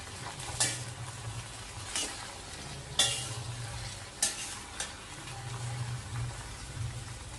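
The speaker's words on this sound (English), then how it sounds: "Mix well and stir" Bhindi masala, Maharashtrian-style okra, stirred in a pan with a spoon scraping now and then over a soft steady sizzle, with a few sharper clinks and scrapes spread across the stir.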